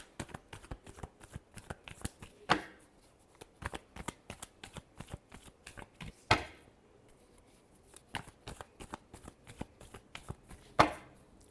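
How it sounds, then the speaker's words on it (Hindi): Playing cards are shuffled repeatedly, quiet crisp riffling with sharp louder snaps of the deck roughly every four seconds, close and alone. "Last shuffle."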